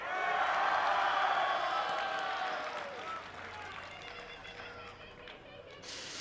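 Crowd cheering at an esports tournament in Las Vegas, a loud roar that slowly fades to a murmur, with some voices mixed in.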